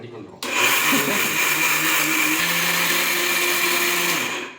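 A mixer grinder grinds dried rice into fine flour for kozhukattai at Vinayagar Chaturthi. It kicks in abruptly with a loud, steady motor whine that runs unbroken to the end.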